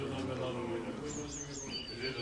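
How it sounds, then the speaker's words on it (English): Small birds, tits and warblers, chirp and sing faintly in a spring countryside setting in Sussex, with short high tweets in a quiet outdoor scene and faint voices behind them. "amid a spring atmosphere of tits and warblers"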